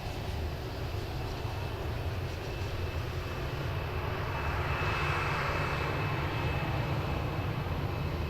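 A jet airliner taking off at Lisbon Airport, a steady, broad, distant roar of engines that swells slightly toward the end and holds without a break.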